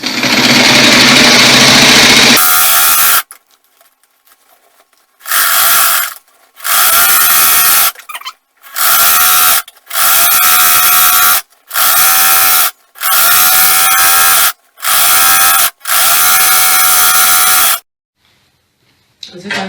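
A sewing machine stitches a 360-degree full-flare peplum in a series of loud, close bursts of rapid needle whirring, separated by short silent pauses.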